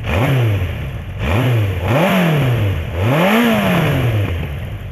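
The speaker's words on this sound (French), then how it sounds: "Des petits coups d'accélérateur." A motorcycle engine revs repeatedly in short, close blips, pitch rising and falling with each throttle burst.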